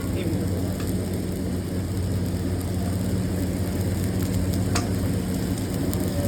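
Dense, constant sizzle and hiss of chow mein frying with onion and chilli, with occasional scrapes of stirring and a voice talking over it.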